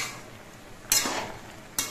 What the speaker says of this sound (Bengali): এবার কচু শাকগুলো একটু নেড়ে চেড়ে দিতে হবে।